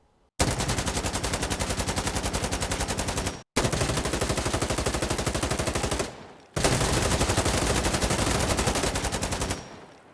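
Three long bursts of fully automatic rifle fire from an M4A1 or AK-74 in the shooter game Insurgency Sandstorm, rapid evenly spaced shots, loud and close, separated by brief silences.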